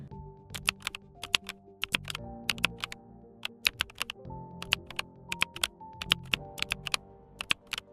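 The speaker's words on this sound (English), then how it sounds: "this keyboard one, I'll just let you listen to it" AI-generated crisp keyboard typing, rapid clicky keystrokes in uneven bursts, close and clear with no voices.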